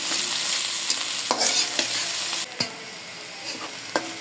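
Chopped onions, about one and a half cups, sizzle steadily in hot oil in a frying pan, with a few sharp clicks and scrapes as a utensil stirs them.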